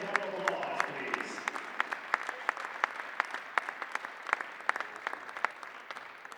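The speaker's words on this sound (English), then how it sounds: "Nice round of applause, please." Spectators at a high school wrestling meet applaud the parents, with faint, distant crowd clapping running throughout and scattered sharp claps nearer in a large gym.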